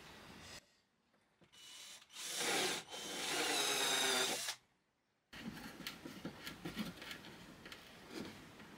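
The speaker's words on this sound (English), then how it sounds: "You just want to put in a pilot hole for the tread." A drill bores a pilot hole into wood, with short bursts and one longer sustained grinding run, close and fairly quiet, followed by scraping and clicking handling sounds.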